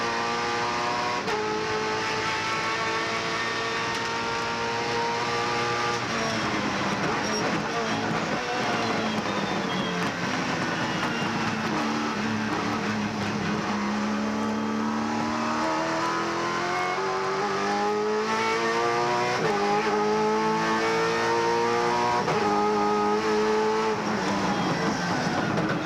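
Onboard a 1999 Shell Championship touring race car driven by Russell Ingall at Hidden Valley Raceway, the engine screams loud and steady, rising and falling through gear changes for the whole stretch.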